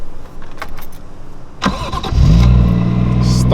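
A Lexus IS300 with a swapped 1JZGTE engine cranks over with a short starter whir, catches and settles into a loud, steady idle, heard up close.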